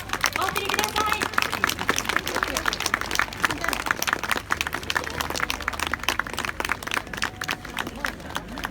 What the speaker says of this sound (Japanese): 最高の花火をこの夜空に飾ってくれた花火師の皆さんにどうぞ今日一番の盛大な拍手をお送りください